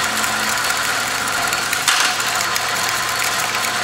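South Bend lathe running in reverse: a steady mechanical hum and whir with faint gear ticking, constant and close, one small clunk midway, no talking.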